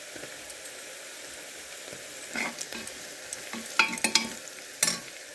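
Onions browning with turmeric powder in a pan, a quiet steady sizzle broken by sharp spatula scrapes and stirring knocks that grow busier toward the end, close up with no talking.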